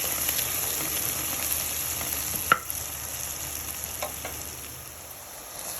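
Onions frying in bubbling sesame oil, a steady fine sizzle with one sharp clack of a utensil and a few fainter taps, moderate and close, no speech.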